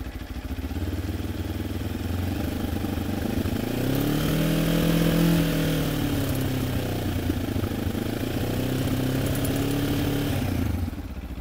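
A Benelli TRK 702 or QJMOTOR SRT 700 motorcycle engine running steadily at idle with a resonant vibration, a close, loud throb that swells slightly in pitch midway, alone without talk.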